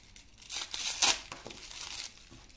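Someone tearing open the crinkly plastic packaging of a Disney Doorables toy, with close rustling and crackling and one sharp rip in the middle.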